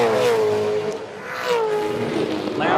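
Supercars racing at Winton Raceway in the 2012 International Supercars season, with a loud, continuous engine drone whose pitch sweeps up and down as cars accelerate and pass close by.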